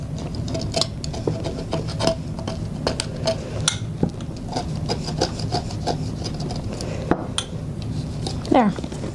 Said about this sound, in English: scrape off the edges of the resin, wherever that is